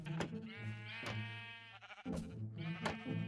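Sheep bleat repeatedly on a Minecraft sheep farm, several wavering, nasal calls overlapping close by, with sharp clicks breaking in between.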